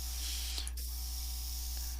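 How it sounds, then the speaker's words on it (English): A handheld paint sprayer gives a steady airy hiss over a constant low motor hum, with a couple of brief clicks as the trigger is worked. No one speaks. "I'll pull back the handle just a little bit. I should get a little spray of something here."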